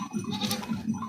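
A goat bleats close by in a short, wavering call within a village farmyard with cattle and other livestock.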